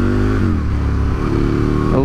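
Aprilia RSV Mille motorcycle with a bored-out 1000cc twin engine, about 20 years old, running steadily and loud with a rough low throb through the whole stretch, pitch shifting slightly near the end; a voice talks over it.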